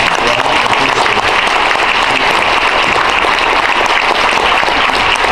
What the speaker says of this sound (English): so if you could please give them a round of applause.